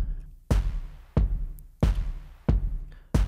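Programmed drum loop pairing a kick and clap with a layered room kick; deep booming hits with sharp broadband attacks land in a steady pattern, roughly every two-thirds of a second, each with a roomy decaying tail.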